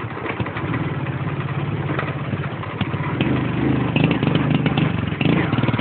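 A motorcycle engine catches and settles into a steady, close idle that grows slightly louder toward the end, with a rough mid-low drone throughout and faint talk in the background.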